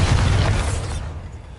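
Bombarda spell exploding in Hogwarts Legacy, a single loud close boom with a rumbling body that fades over about a second.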